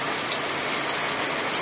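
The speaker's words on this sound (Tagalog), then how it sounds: "Bumalik na naman ang ulan." Rain falls in a dense, steady wash of hiss, loud and close with no break across the short stretch and no voices.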